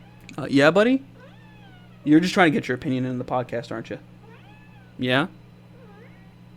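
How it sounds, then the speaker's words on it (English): A pet cat meowing for attention, several close, loud drawn-out meows in separate bursts, with someone talking to it between calls over a steady low hum. "he's meowing away,"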